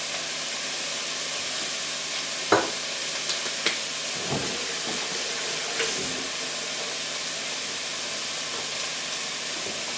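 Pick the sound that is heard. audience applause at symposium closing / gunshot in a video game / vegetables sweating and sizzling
vegetables sweating and sizzling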